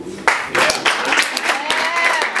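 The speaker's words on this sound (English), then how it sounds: "give a round of applause to Andy" Audience applause for a performer at an Afro music and poetry night, scattered claps and cheering with a few voices calling out over the crowd.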